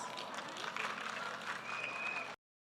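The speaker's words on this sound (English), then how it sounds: "please give them a big round of applause." An audience claps for senior KG students at a school annual function, a moderately loud, even spread of applause that continues for over two seconds, then cuts off abruptly.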